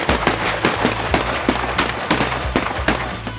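Rapid, closely spaced blasts, about a dozen sharp reports in quick succession, from shotguns fired at mallard drakes during a late-season duck and goose hunt in Colorado; loud and close with no talk.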